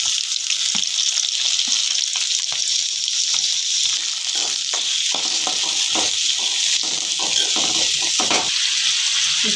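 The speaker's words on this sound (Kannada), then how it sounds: "ಈಗ ಎಣ್ಣೆ ಬಿಸಿಯಾಗಿದೆ. 2 ಈರುಳ್ಳಿ ಕಟ್ ಮಾಡಿ ಇಟ್ಕೊಂಡೀನಿ, ಅದನ್ನು ಹಾಕೋತೀನಿ." Chopped onions and tomatoes frying in hot oil for pav bhaji: a steady, bright sizzling hiss throughout, with soft scraping and stirring knocks scattered underneath, close up and with no voices.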